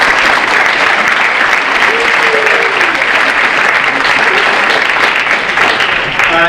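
Sustained applause from an audience at a senior awards night honoring parents, a dense even clatter of clapping hands filling the whole span at steady loudness, with faint voices mixed in.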